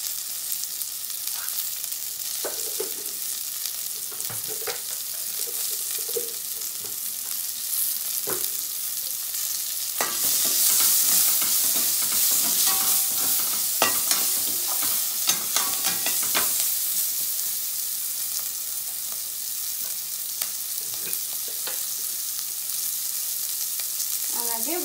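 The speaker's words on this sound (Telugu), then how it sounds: "ఉల్లిపాయలు తొందరగా ఫ్రై అవుతాయి." Onions frying in a pan for masala karam dosa, with a steady broadband sizzle and repeated scraping stirs, growing louder and denser midway, with no talking.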